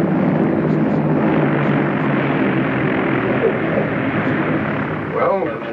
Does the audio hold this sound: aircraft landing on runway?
yes